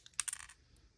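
Pliers pull a tooth off a zipper tape, making a quick cluster of sharp little clicks and snaps up close, then near silence.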